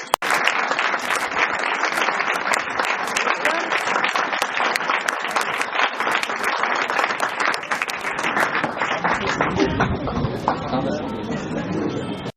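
A school exam awareness program audience claps loudly and continuously to welcome the chief guest, a former chairman, with sharp individual claps standing out and the applause thinning near the end as talk begins.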